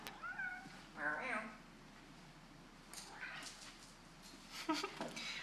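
A cat gives a few short, trilling chirps and meows up close, with quiet gaps between them and a person's voice briefly nearby.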